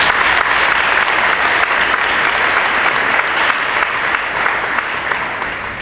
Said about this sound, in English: I just want to give a round of applause to the whole team that worked on this today